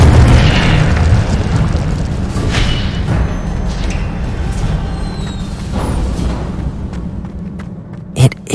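Incendio fire spell cast in the Hogwarts Legacy video game, a loud booming fiery burst followed by a sustained rumbling roar that slowly fades, ending with a couple of sharp pops.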